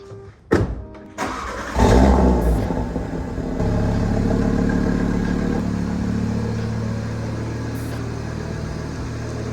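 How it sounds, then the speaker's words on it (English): An Audi RS3 starts up after an oil change with a few sharp clunks and a rising crank, then its engine settles into a steady, loud idle and drive rumble nearby, with no voices. "let's go for a quick drive to get the oil pumping through"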